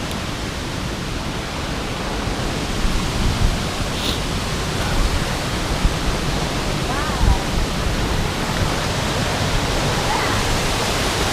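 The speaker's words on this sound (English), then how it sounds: "You knew you were getting close because the water sound got really loud." Loud, constant roar of rushing water close by at a waterfall on a forest trail, a dense wash of noise, with faint voices underneath.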